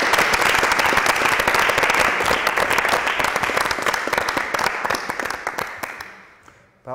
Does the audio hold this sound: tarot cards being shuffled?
no